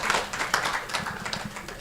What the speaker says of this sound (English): I think we can give him a round of applause